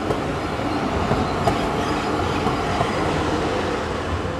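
A tram passing on the streets of Zurich, heard as a steady, loud rolling rumble with a faint rail clatter that fills the whole clip, with no talking.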